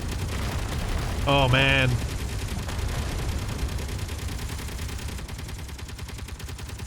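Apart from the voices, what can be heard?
explosions from turrets hitting meteors in video game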